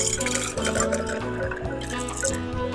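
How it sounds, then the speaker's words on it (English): A blended tiki cocktail is poured from a blender jar into a tiki mug, giving a close, gurgling, splashing liquid pour with slushy ice that glugs unevenly over nearly three seconds. "we're gonna pour our beautiful cocktail into our beautiful mug."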